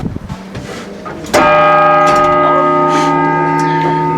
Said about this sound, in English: And that's the largest bell here, I'm pretty sure.